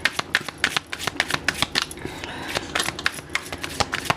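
Tarot cards being shuffled by hand in a quick run of crisp riffling flicks, close and fairly quiet, with a brief smoother rustle midway and no voices.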